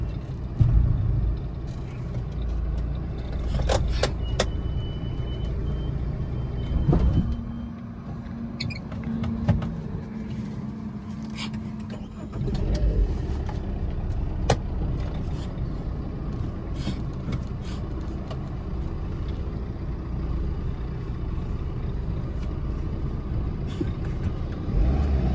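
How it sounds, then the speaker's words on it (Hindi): A Tata Indigo VX sedan on a short test drive gives steady engine and road rumble from inside the cabin, with scattered clicks and knocks over the continuous drone. "अब चलते हैं इसके एक छोटा सा टेस्ट ड्राइव में और देखते हैं गाड़ी चलने में कैसा"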